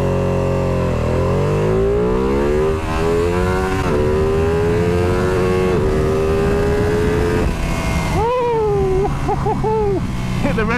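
A Ducati Panigale V2 motorcycle accelerating hard on a private road, the engine note rising steadily through the revs, then bouncing off the rev limiter in several quick stuttering bursts, loud and close.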